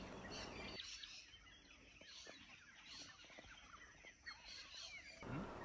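Fowl cluck and call repeatedly at a distance, with other bird calls over a quiet outdoor background at sunrise by Lake Bennett, Northern Territory, Australia.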